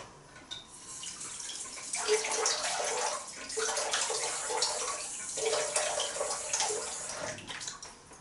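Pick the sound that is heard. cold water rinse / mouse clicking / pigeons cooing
cold water rinse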